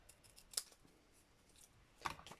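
Scissors snip through paper for a journal snippet roll, two crisp, close cuts about a second and a half apart against a quiet background.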